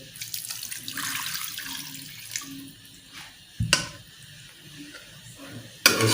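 Water poured from a glass into a pot of camel meat, a steady splashing pour across most of the clip, close and fairly quiet, with a couple of sharper clatters of the pot near the middle and at the end.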